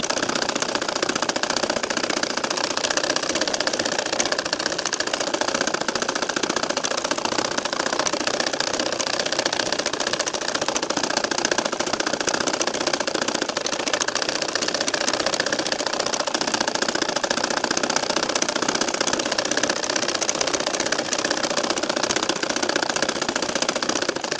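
A sewing machine runs in a steady, continuous hum while stitching a nakshi kantha quilt, the motor drone even and unbroken for the whole stretch with no talking.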